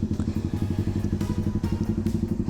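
Brand new motorcycle idling before riding off, a steady low rhythmic engine thump repeating evenly throughout, close and loud.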